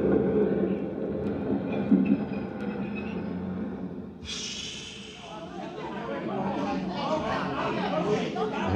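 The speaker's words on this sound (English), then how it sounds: "Joe Candle worked in the change booth in the subway station at 59th Street." Subway station ambience at 59th Street, with a train rumbling steadily under busy crowd chatter, and a hissing brake-like burst partway through as the noise swells.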